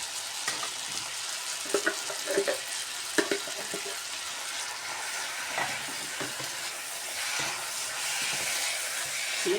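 Chilli con carne sizzles and fries steadily in a pan while being stirred, with scraping stir strokes and bubbling over a continuous hiss, close and fairly loud throughout.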